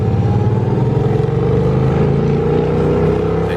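A Harley-Davidson Shovelhead motorcycle engine rumbles loud and close, its deep, uneven lumpy idle pulsing steadily with a slight rise in revs, no voices over it.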